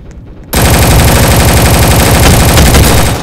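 Rapid automatic gunfire in the Roblox video game, a loud, dense, continuous burst of shots that starts abruptly after a brief quieter moment and sustains to the end, with no talking.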